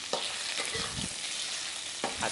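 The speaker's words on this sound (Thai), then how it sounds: "ผัดกุ้งให้สุกสักนิดนึงนะคะให้สะดุ้งค่ะ" Shrimp being stir-fried with minced garlic in a hot pan while cooking stink bean stir-fry with shrimp paste chili sauce: a steady close sizzle with stirring scrapes and a few louder bursts.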